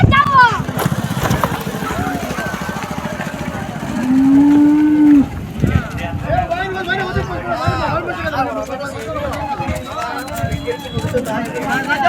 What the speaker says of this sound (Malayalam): എല്ലാം അത്യാവശ്യം നല്ല സൈസുള്ള പശുക്കളാണ് എടുത്തേക്കുന്നത് എല്ലാം.